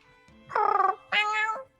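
A cat meows twice up close: a wavering, slightly trembling first call and then a longer, clear second meow, both loud against a quiet room.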